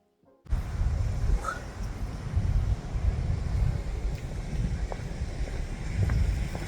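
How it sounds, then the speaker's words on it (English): Strong, continuous seaside wind at Great Yarmouth buffets the microphone with a deep, rumbling roar, steady and loud throughout, with faint outdoor background beneath. "It's rather windy today."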